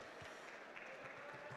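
Applause from an audience at a startup reverse-pitching event, honoring the investors; a faint, steady, distant patter of many hands clapping throughout, with no clear voices.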